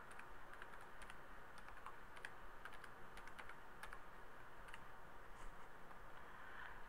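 A computer keyboard tapped in quick, irregular bursts while a batch name is typed, soft and close over a low steady hiss, no talk.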